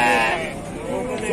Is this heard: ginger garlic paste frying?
no